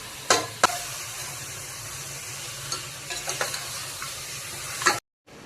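Spices for paya curry fry in a pan as a spoon stirs them, a soft steady sizzle under several sharp scraping clanks of the utensil against the pan, ending in sudden silence.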